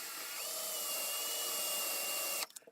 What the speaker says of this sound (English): Now insert the stub into a hand drill and we're going to file down the edge slightly.